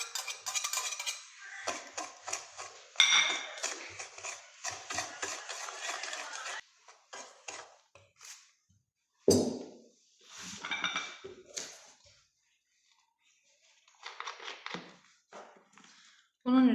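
Utensil clinks and scrapes against a bowl while ingredients for a chocolate cream are stirred, then an egg is added; close, irregular clatter in bursts with pauses, and a sharper knock near the end.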